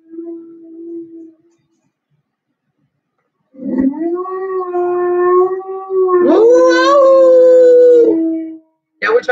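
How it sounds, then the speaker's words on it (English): A young dog howls in rising, wavering tones after a short opening whine, the howls long and loud and close, ending in a brief final yelp. "try to make her howl for the first time."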